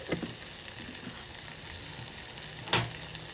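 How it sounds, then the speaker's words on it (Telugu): Chopped onion pieces fry in a pan with a steady, soft sizzle throughout, broken by a brief louder crackle or stir near the end. "ఉల్లిపాయ ముక్కలు కొంచెం ఎర్రగా అయ్యే వరకు వేయించుకోవాలి"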